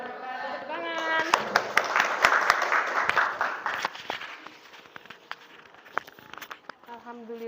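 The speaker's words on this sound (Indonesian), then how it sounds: "Tepuk tangan." Students in a classroom clap after a discussion lesson. Talk opens the moment, then a burst of scattered, close clapping swells and thins out before speech resumes.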